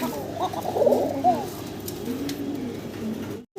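Fancy pigeons in a loft coo in low, rolling, repeated calls close by, a soft burbling that rises and falls over faint background noise.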